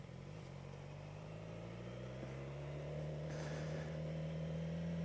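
A motorcycle engine revs steadily with a rising drone that builds in loudness over several seconds, close by, with no talk.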